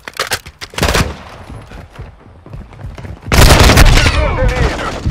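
Gunfire in a Call of Duty: Modern Warfare II team deathmatch, with Kastov 545 rifles in play. Sharp bursts of automatic shots come near and loud, stop for a quieter gap, then a heavier sustained volley rings out. Voices mix in.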